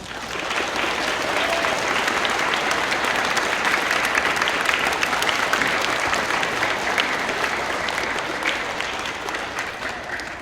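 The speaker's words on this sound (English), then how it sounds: "Please, let's give them a round of applause." Sustained, dense applause from an audience honoring veterans at an elementary school Veterans Day program, steady and loud throughout with no break.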